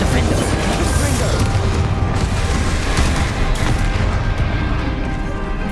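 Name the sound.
Confringo spell blast in Hogwarts Legacy video game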